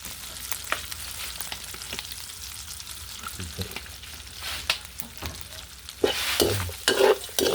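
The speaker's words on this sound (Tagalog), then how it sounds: "Dagdagan natin ng konti, magigisa na tayo." Pork sautéing in oil in a pan, crackling sizzle with frequent spatula stirs and scrapes, growing louder and more spattery toward the end.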